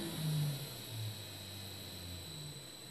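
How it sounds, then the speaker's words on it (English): Holbrook lathe motor running with its fan belt snapped, a quiet steady electrical hum with a faint high whine, near and alone. "So that's the motor still running."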